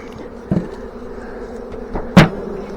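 A honey bee swarm hums steadily around frames set out in a trap, a close continuous buzz with a couple of sharp knocks and bumps breaking through.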